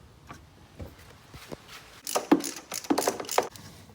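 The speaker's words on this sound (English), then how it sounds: "We're gonna take this nut off" A hand ratchet loosens the retaining nut on the shift linkage of a 2017 or later Chrysler Pacifica with a ZF 948TE nine-speed transmission, giving a few quick clicking bursts, close and fairly faint.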